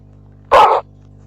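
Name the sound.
dog barking in Minecraft video game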